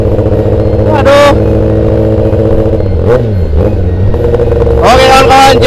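A 2021 Kawasaki ZX10R sport bike engine runs loud and close, holding a steady high idle with several sharp revs that rise and fall, one near the start and another burst toward the end.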